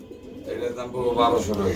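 Racer pigeons at a pigeon farm coo softly and repeatedly close by, with human voices talking over the low calls.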